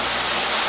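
A waterfall roars close by on a hiking trail, a dense, steady rush of falling water filling the whole moment without a break.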